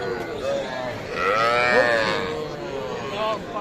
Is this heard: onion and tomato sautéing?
no